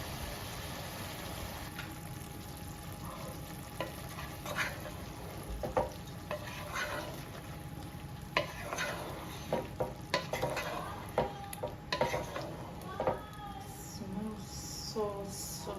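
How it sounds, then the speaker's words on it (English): Coconut cream goes into a chicken curry in a frying pan, giving a soft continuous sizzle and bubbling with scraping stirs and clinks of a utensil, close by, with occasional talk. "I'm going to add in the coconut cream"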